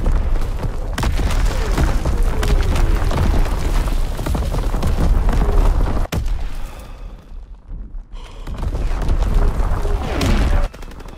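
V2 rocket strikes in the video game Call of Duty WW2 land as a loud, dense barrage of booming explosions and rumbling debris, with a brief lull before another blast.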